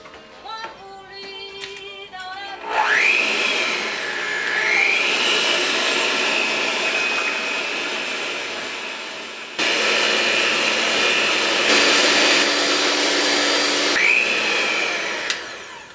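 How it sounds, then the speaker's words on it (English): Electric hand mixer whipping cream with vanilla in a bowl for an icebox cake, a loud steady whirring drone whose pitch rises at startup and shifts as the speed changes, then briefly cuts and returns, running alone without talk. "I'm gonna whip this really quick"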